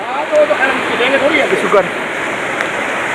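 Floodwater surges down a flooded street in Block 10, Karachi, after heavy rain has submerged a car, making a steady broadband rush like a stream or waterfall, with faint voices in the background.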